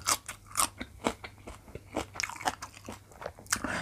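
Biting and chewing octopus tentacle salad dressed in a spicy Thai yum sauce: close, loud, repeated crunchy bites and wet chewing in an uneven rhythm, with no talking.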